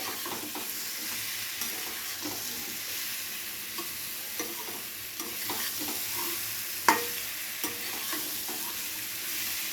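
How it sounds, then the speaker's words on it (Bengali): Potatoes are stir-fried with spices in a pan for a dry potato dish, a constant close sizzle with soft scrapes and occasional knocks of the stirring spoon, no voices. "মশলাটার সাথে আলুটাকে খুব ভালো করে কষিয়ে নিলাম।"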